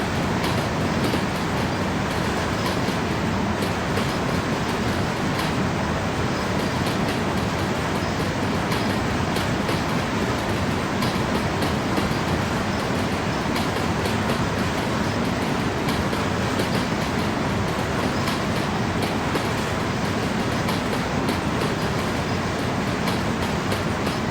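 A train in the SimRail simulator game rumbles steadily past at close range, a continuous loud roar with faint rhythmic clicking of wheels on track, no voices.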